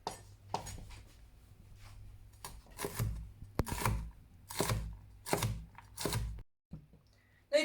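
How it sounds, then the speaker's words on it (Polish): Sharp knife chops green beans on a cutting board in irregular bursts, close and crisp, with quiet pauses between the cuts. "Na początku trzeba pokroić tego fasora na takie drobne."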